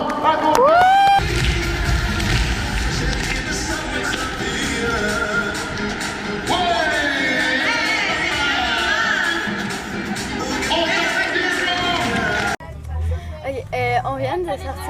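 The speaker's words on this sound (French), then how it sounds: "tout le monde ensemble ici, on donne une bonne main d'applaudissements à nos..." An audience at a school perseverance event applauds and cheers loudly for several seconds, a dense crowd roar with a voice over it, before cutting to quieter speech outdoors.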